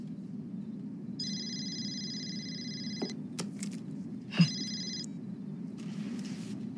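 A telephone rings in a quiet indoor room, two electronic trilling bursts separated by a short gap, with faint handling sounds and low background hum around them and no talking.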